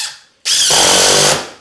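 A power drill bores into wood subfloor near a knot, a short fading tail giving way to a sudden loud whine that holds steady for about a second before stopping, close up with no talk.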